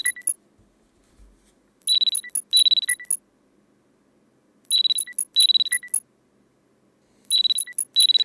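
Digital alarm clock ringing in the horror game Parasocial, bursts of rapid high electronic beeps repeating in clusters with silent gaps between, loud and clean with no other sounds.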